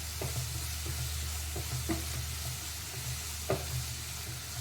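Four large crushed onions fry in a pan for paneer butter masala, giving a steady close sizzle broken by a few scraping stirs of a spoon against the pan.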